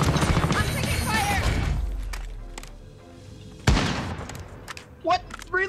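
Gunfire in Call of Duty: Warzone: a dense burst of rapid shots early on, then a sharp loud crack and several scattered later shots, with game noise and voices talking over it.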